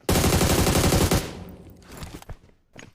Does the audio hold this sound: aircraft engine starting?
no